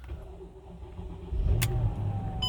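A Mercedes W211 E500 V8 cranks and fires up after sitting overnight, a short click followed by the engine catching and settling into a steady idle nearby.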